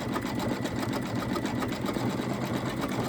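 An embroidery machine stitches an Easter bunny appliqué, a fast, even, rattling needle rhythm running continuously up close without any speech.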